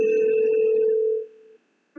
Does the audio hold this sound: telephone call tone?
yes